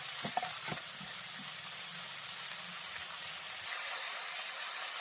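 Ginger garlic paste sizzling in hot oil in a pan, a steady, even frying hiss throughout with a few brief clatters of a spoon near the start.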